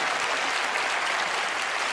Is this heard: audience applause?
yes